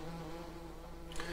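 Bees at a beehive in the video game Farming Simulator 19 give a soft, continuous low buzzing drone, faint and steady for a brief moment.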